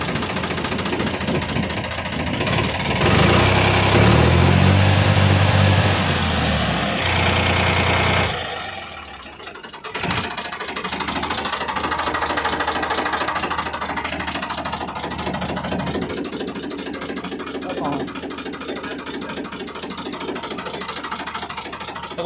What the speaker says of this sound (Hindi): ये देखो ये आवाज़ ट्रैक्टर की इसकी।